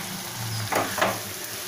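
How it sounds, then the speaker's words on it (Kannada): Mashed potatoes tipped into a hot tempering in a pan while making aloo palya for masala dosa, giving a soft steady sizzle with two brief louder bursts of frying noise as they land. "ಈಗ ನಾವು ಮ್ಯಾಶ್ ಮಾಡಿಟ್ಕೊಂಡಿರೋಂಥ ಆಲೂಗಡ್ಡೆ ಹಾಕ್ಕೊಳ್ಳೋಣ"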